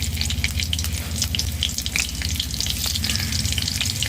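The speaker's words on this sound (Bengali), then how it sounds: "কড়াইতে সাদা তেল দিয়েছি 3 টেবিল চামচ, গোটা জিরা, কাঁচা লঙ্কা কুচি," Whole cumin and chopped green chili frying in about three tablespoons of white oil in a wok, a loud, dense, continuous sizzle with crackling pops and stirring scrapes, with no talk.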